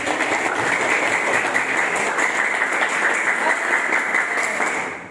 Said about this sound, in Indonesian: boleh dikasih tepuk tangan dulu